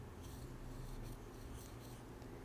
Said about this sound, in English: I'm going to write it in cursive.